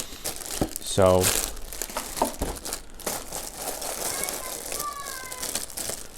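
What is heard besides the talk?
crinkling original plastic bags of Tamiya model parts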